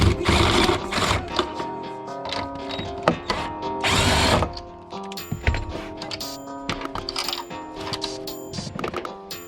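A power impact tool zips off two 14mm coilover nuts on an Acura RSX, loud whirring bursts with rattling hammering, short pauses between runs, heard up close in a garage.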